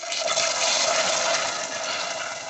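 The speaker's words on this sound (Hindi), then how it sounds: "और अब हम इसमें ये जो 1 कप पानी था ये शामिल करेंगे" Water is poured into caramelized sugar for caramel tea, making a steady, loud rushing hiss and sizzle that continues for the whole clip without talk.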